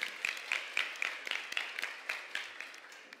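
An auditorium audience at a regional oratory competition final in Panamá Oeste claps, fairly soft and steady, with individual claps falling in a loose rhythm that gradually thins out.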